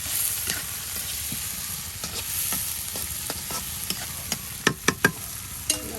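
Chopped onions and green chillies frying in a pan with egg, a steady sizzle under repeated spoon scrapes and taps that grow sharper toward the end, close by with no talk.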